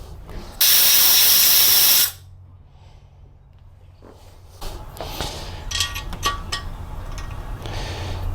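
A strong burst of compressed air blasts metal shavings out of a threaded bolt hole in an LS3 engine block, loud and steady for about a second and a half, then cuts off, leaving faint shop rustling and clatter.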